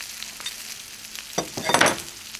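Ribeye steak sizzles in an Ooni Koda 16 oven, a quiet crackling hiss that swells into a louder burst of spitting and popping in the second half.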